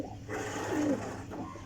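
Pigeons in a loft, with a soft cooing call rising briefly over a low steady hum of birds and rustling, close by with no one talking.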